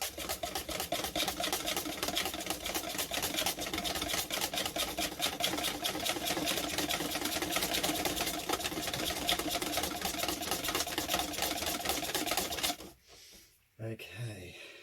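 A metal whisk beats jesmonite in a container, scraping the bottom and sides in a fast, steady, dense churning rattle that continues loud and close, then breaks off abruptly near the end with a brief clatter.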